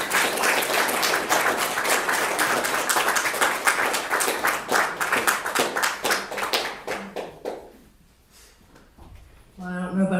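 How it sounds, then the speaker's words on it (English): A church congregation claps in praise, a dense burst of many hands that thins toward the end and fades, with a voice returning briefly afterward. "Give the Lord a hand clap of praise with you."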